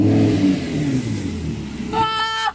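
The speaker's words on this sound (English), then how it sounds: "Now press the engine start button." A Lamborghini engine starts up and revs, a deep rumbling idle that rises with an accelerating roar, close and loud, ending on a brief higher whine.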